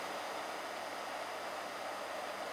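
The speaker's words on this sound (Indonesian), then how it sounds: "Dan suara kipas pun sudah mutar ya kipasnya." A computer power supply's cooling fan spins steadily while the unit is powered at about 12 volts, giving a constant, fairly quiet broadband whoosh with no talk over it.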